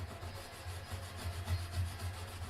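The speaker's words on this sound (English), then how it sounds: "When you're polishing stuff, best thing to do is listen." Close, quiet rubbing as a burr on a budget Recording King Dirty 30's guitar is polished by hand, a steady low scrubbing with a few slightly louder strokes near the end.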